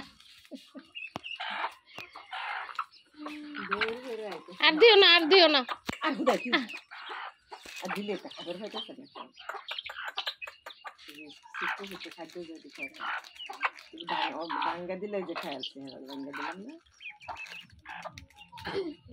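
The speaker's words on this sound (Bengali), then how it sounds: "দেখুন হাঁস মুরগির বাচ্চারে চিপস খাওয়াইতেছে" Chicks and ducklings peep and cluck busily while eating chips, close by, as a person speaks now and then.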